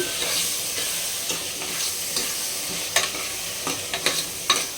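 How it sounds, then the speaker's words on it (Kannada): Food frying in a pan with onions, a steady close sizzle with occasional sharp scraping stirs toward the end, no voices. "ಫ್ರೈ ಮಾಡ್ಕೊಂತಿದ್ದೀವಿ"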